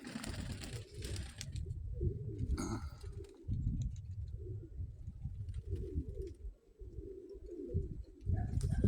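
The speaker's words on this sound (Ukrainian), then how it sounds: "Ось такі голуби шпарять." Pigeons coo repeatedly in low, rolling calls, close and continuous in the evening, with a few brief wing flutters and chirps mixed in.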